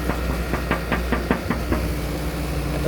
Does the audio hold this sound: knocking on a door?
yes